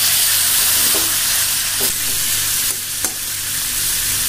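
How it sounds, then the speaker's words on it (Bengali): Boiled pointed gourd frying in a pan with onion and garlic, a loud continuous sizzle with a few clinks of stirring throughout. "আমি এখন দু মিনিট পটলটাকে ভাজব তারপর আমি বন্ধ করব গ্যাস"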